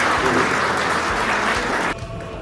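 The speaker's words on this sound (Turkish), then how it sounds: "alkışlarınızla buraya davet etmek istiyorum" Dense applause from an audience at a Gençlerbirliği football club gathering, loud and continuous clapping that drops off abruptly near the end of a brief moment.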